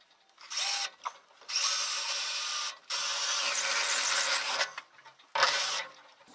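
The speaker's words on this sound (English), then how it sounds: "Let's pass a file down through the inside to take off any burrs that might have formed." A metal file rasps along the inside of a cargo trailer tube to deburr it, giving harsh, close scraping strokes in several bursts separated by short gaps, with no voices.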